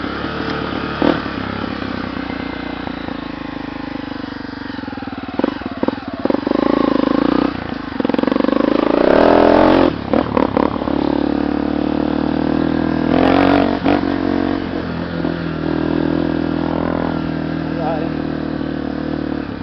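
Honda Tornado 300cc motorcycle with a Maxon turbo exhaust, the engine running loud and close and revving hard while the bike struggles and skids on a climb, with bursts of clatter and people talking over it.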